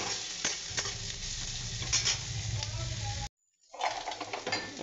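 Chopped onions and nigella seeds sizzle in hot oil while a utensil stirs and scrapes the pan, with a brief dropout near the end before the frying resumes.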